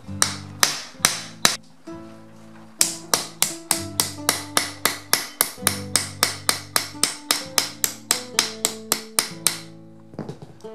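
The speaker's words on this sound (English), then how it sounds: "you want to hammer the rivets" Sharp metallic hammer strikes on steel rivets for armor gauntlet fingers ring out in a steady series, some quick and clustered, others spaced, each with a short bright ring.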